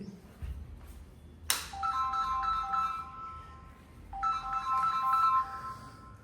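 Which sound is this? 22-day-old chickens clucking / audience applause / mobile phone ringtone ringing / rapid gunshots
mobile phone ringtone ringing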